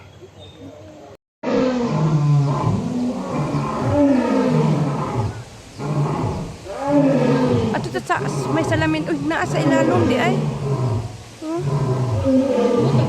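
A lion roars at Singapore Zoo: long, deep, repeated roaring carries on for several seconds while visitors nearby talk over it.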